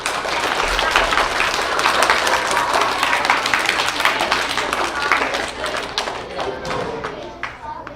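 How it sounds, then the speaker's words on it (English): Schoolchildren at a K-5 school in Reedley, California applaud together in a loud, dense burst of clapping mixed with thumps and crowd rustle, slowly thinning toward the end. "So you may applaud for yourselves."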